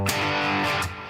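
An electric guitar with its volume knob rolled fully up gives a thick, saturated, distorted rhythm tone. A loud, sustained chord rings for about a second before cutting off.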